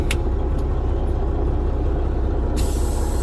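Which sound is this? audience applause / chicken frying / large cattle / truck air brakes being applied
truck air brakes being applied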